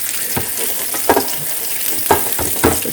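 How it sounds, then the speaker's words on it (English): Breaded flounder deep fries in hot oil, a loud, dense bubbling sizzle running throughout with a few spatula scrapes and knocks, close up and with no talk. "Now I can deep fry a fish like nobody's business."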